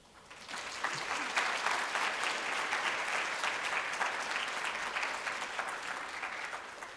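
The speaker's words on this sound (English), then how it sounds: "let's give a big round of applause to our honorable guests and speakers" A large audience at a career day event applauds its guests and speakers, a dense, even clapping that swells in quickly and holds steady for several seconds.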